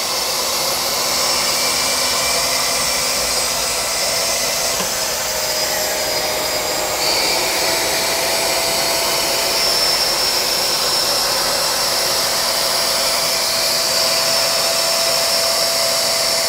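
An upright vacuum cleaner runs on carpet with a steady, loud motor whine and airy rush, holding a constant drone throughout with no talk.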